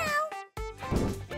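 Cat meowing up close, a loud drawn-out meow followed after a brief gap by a second, longer, wavering meow.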